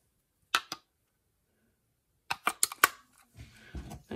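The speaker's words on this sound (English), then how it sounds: "Put in two AA batteries" Two AA batteries go into the battery compartment of a Microsoft Sculpt Comfort wireless mouse, giving two sharp clicks, a pause, then a cluster of plastic clacks and rattles up close with no talking.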